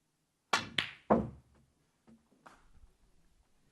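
A snooker cue strikes the ball in a quiet hall, three crisp clacks in quick succession followed by a few soft, fainter knocks as the balls settle.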